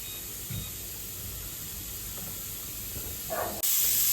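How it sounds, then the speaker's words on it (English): Steam hisses steadily from a pressure canner holding jars of green beans, a constant broadband rush that swells louder and harsher near the end. "the steam is coming out, so we're going to set our timer for 10 minutes"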